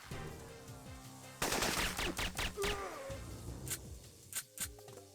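Gunfire from the Syphon Filter video game, a loud burst of rapid automatic shots followed by a few scattered single cracks, with ringing metallic effects in a busy game mix.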